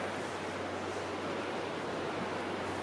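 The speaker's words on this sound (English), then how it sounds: "there's the sound of pouring water" Steady broadband rush of water pouring over a coastal cliff as a waterfall on the northern coast of West Somerset, a continuous, even roar with no talk, blending with surf-like noise.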